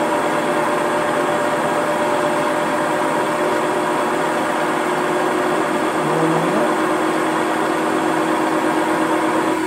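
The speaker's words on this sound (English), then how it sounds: "Set the speed up for the 5mm drill." A pillar or bench drill spinning at speed with a 5mm bit during a Wadkin planer repair, giving a steady, continuous motor hum with a whine throughout, no talking.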